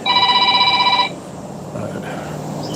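Phone ringing for an incoming call, a loud electronic warbling trill lasting about a second before it cuts off, followed by quiet room sound.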